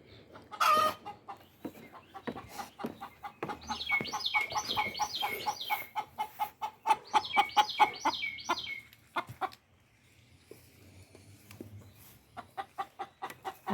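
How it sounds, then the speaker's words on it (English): Hens clucking while laying eggs in a backyard coop, a run of loud, close cackling calls in repeated bursts with quieter clucks and scuffles between them. "I hear some hens laying eggs."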